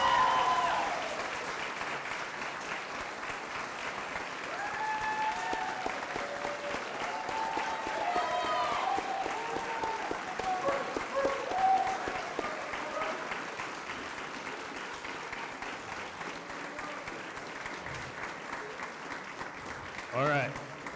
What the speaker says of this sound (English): please join me in giving a resounding round of applause to celebrate our amazing Daniel C. Oaks graduating class of May